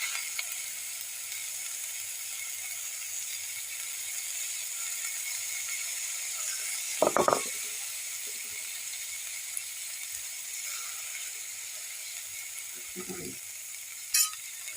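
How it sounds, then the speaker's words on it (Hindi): Fenugreek leaves fry in hot ghee with a steady, faint high hiss that runs throughout, broken by a couple of brief clunks from the pan or utensil. "तो ये देखिए, ये घी हमारी गरम हो गई है। तो अब इसमें मैं मेथी पत्ता डाल रही हूँ।"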